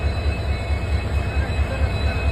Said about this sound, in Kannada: ಯಶವಂತಪುರ ಜಂಕ್ಷನ್ ರೈಲ್ವೆ ಸ್ಟೇಷನ್ ಒಳಗೆ ಡಿಸೈಲ್ ಲೋಕೋಮೋಟಿವ್ ಕಪ್ಲಿಂಗ್ ಮಾಡತ್ತಾರ ನೋಡ್ರಿ.